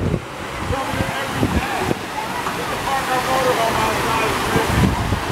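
Pool waterfall at an Orlando vacation resort, a steady broadband rush of falling water that runs loud and constant throughout, with voices and light wind noise over it.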